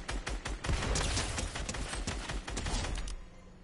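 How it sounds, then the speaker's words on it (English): Gunfire in the video game Fortnite: a dense, rapid burst of shots crackling continuously for a few seconds, loud and close, then tapering off near the end with no voices. "Ooh, someone's shooting."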